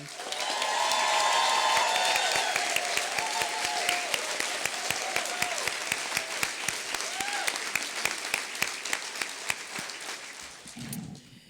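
A ceremony crowd applauds the graduating class of 2016, loud sustained clapping with a few voices and cheers in the mix, gradually thinning before it stops abruptly.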